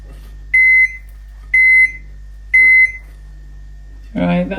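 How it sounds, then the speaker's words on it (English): A microwave oven hums steadily, then gives three evenly spaced beeps; a voice starts talking right after the last one. "All right, that's the microwave done."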